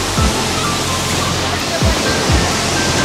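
Tiger Falls in Chakrata, Uttarakhand roars as a dense, steady, loud wash of cascading water that fills the whole clip, with low rumbling thuds at moments.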